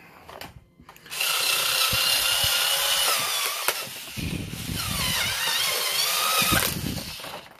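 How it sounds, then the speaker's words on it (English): Screwdriver set plastic packaging being cut open, a steady harsh scraping and tearing that runs almost continuously for several seconds after a brief quiet start, close and fairly loud, with no talking. "it really is kind of struggling to cut through this packaging here"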